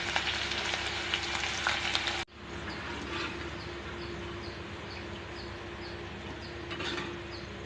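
Banana flower pakoda sizzling in hot oil, a dense steady crackle that drops suddenly to a softer fizzing partway through, close-up with no one speaking.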